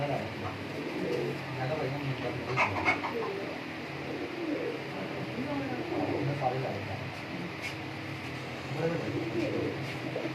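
Rare breeder pigeons coo in soft, repeated low throaty calls, fairly close, set against a steady background hum with a few faint chirps and distant noise, and someone talks over them.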